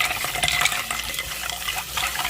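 Water poured from above into a large crystal bowl filled with ice, a steady, dense splashing and rushing pour that continues unbroken and close, with no voices.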